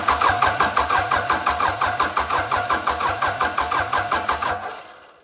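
A Cummins 4BT diesel engine, rebuilt with a suspected leaking injector seal, runs loud and close with a fast, even, pulsing knock and clatter that holds steady for several seconds before winding down, with no voices.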